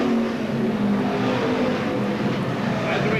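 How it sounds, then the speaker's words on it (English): A misfiring stock race car passes at Seekonk Speedway, a loud, steady engine roar that stays close and continuous for the whole stretch, with faint crowd or track ambience beneath it. "You can hear the car skipping as it goes by"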